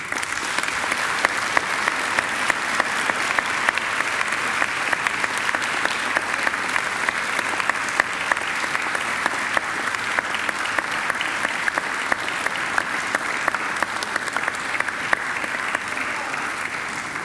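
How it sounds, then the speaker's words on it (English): Loud, sustained applause from a large crowd at a Macquarie graduation ceremony, dense clapping that holds steady throughout before easing slightly at the end. "And now I invite you to give them a mighty round of applause."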